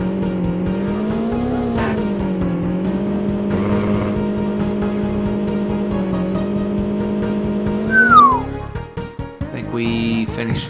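Race cars in a video game on the final lap, a steady synthesized engine drone with shifting pitch, a brief squeal near the end, then the engine tone breaks up and changes.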